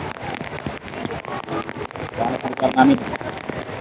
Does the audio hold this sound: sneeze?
no